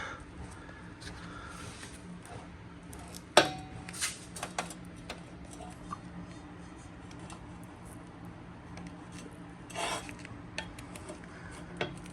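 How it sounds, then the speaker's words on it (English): A rubber driveshaft carrier bushing on a Mitsubishi Evo X is pried and ripped out of its metal sleeve, with close, quiet scraping and rasping rubs punctuated by a few sharp snaps and clicks. "So now we have to do the same and just pry the top out. Metal sleeve again. And just rip the bushing out."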